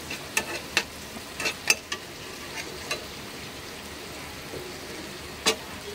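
Spices and chili frying in hot oil for a bhendi batata fry, with a steady low sizzle broken by sharp spatula scrapes and taps against the pan at irregular intervals.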